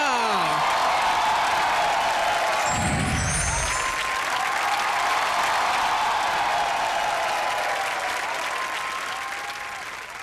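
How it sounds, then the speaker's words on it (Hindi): Sustained, loud applause from a large comedy show audience fills the whole stretch, steady and dense, with a brief low rumble partway through. "ठोको ताली।"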